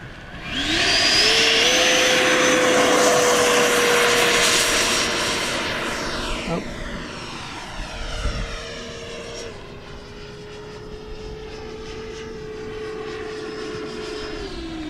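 A Banana Hobby Aerofoam 105mm 12s electric ducted fan RC jet flying: a loud, high whining fan roar that rises, holds, then eases and passes with a shifting tone, steady throughout with no talking.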